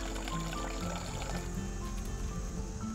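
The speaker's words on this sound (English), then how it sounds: "Fresh, mature spring water right out of the mountain." Fresh mountain spring water pours and trickles steadily into a container, a continuous gurgling splash close by.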